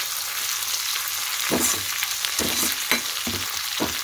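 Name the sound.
food frying in a pan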